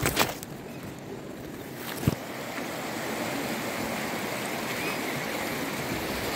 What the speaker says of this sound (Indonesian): Airnya deras sekali.